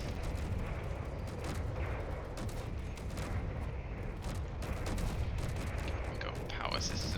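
Ship turrets fire in Space Engineers during a dreadnought battle, a steady stream of booming shots and rumble with someone talking over it.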